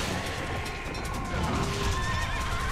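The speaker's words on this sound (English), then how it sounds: "Hello, second horse." Horse neighing in the Sengoku BASARA video game, a clear whinny over busy game noise with hoof clops and clatter in the background.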